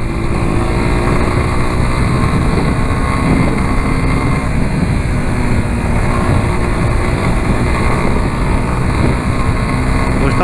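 A motorcycle rides along a road on the way back from the old Estrada da Graciosa, giving a steady, close engine drone mixed with constant wind roar for the whole stretch, with no talking.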